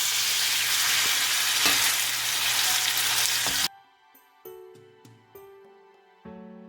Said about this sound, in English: let's start by browning our ground beef